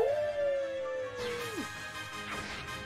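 Dogs howl in Pokemon Shield: one long, steady, sliding howl that bends downward and cuts off, followed by two softer, noisy rushes of sound.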